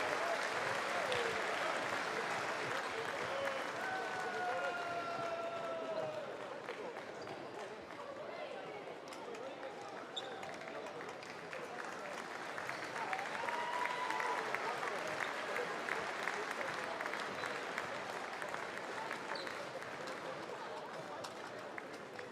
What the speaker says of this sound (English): Round of applause for our match officials, please.